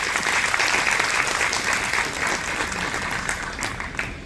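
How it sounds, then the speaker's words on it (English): A hall audience gives a huge round of applause honouring the Indian Council for Cultural Relations at its 75th anniversary celebration with the University of Lucknow, a thick sustained clatter of many hands that slowly tapers toward the end. "So a huge round of applause is due to them."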